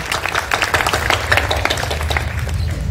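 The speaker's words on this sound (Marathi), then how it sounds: "तर आपल्या स्वतःसाठी एक जोरदार टाळ्या होऊन जातो" Sustained applause from a women's day gathering held by a Samvedi Brahmin women's committee, steady dense clapping from an audience lasting the whole stretch at an even level.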